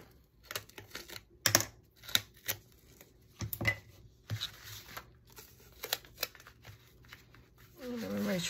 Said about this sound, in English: let's attach the tape to the other side